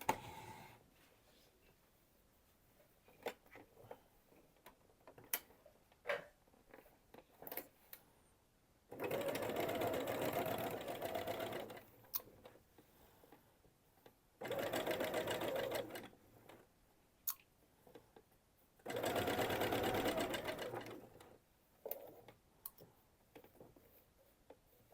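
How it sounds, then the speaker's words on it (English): A sewing machine stitches the side seam of a luxury bag in three sustained bursts of motor whir. Scattered clicks and small handling taps fill the pauses between bursts. "So we're going to sew this side, turn it out,"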